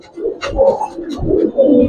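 Giribaz silver pigeons coo up close, loud rolling calls in several overlapping bursts.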